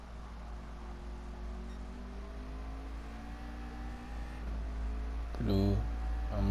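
Race cars including a Lamborghini lapping in Gran Turismo Sport, a steady engine drone with tones rising through the gears, mid-distance and continuous, building slightly louder near the end.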